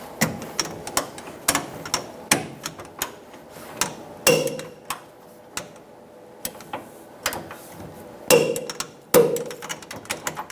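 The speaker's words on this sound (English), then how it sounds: "Torque the shock bolts to 85 foot-pounds." Torque wrench tightening shock bolts on a Chevrolet Silverado 1500, a series of sharp ratcheting clicks and metallic knocks in irregular bursts, close and fairly loud, with a few heavier clanks and no speech.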